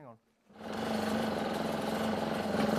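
An old engine is turned over by hand cranking, a brief tonal whir that drops to near silence, then a steady, loud mechanical churning drone that holds on with a rough, pulsing texture.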